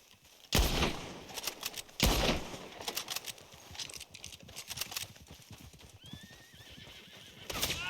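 Horses in a Western-style shooting video game clatter and neigh, with sharp bursts at the start, then rapid clip-clop hoofbeats and a whinny near the end, heard alone without talk.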